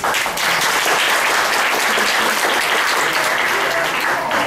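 Sustained, dense applause from a large audience at a motivational talk, loud and steady throughout with no pauses.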